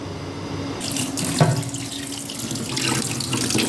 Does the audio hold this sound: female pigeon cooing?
no